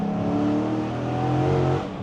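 Dodge Challenger Scat Pack V8 with cam work and high-flow cats revving up, a loud, steady, deep exhaust roar that holds close and full for about two seconds before easing slightly at the end.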